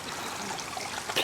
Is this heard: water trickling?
yes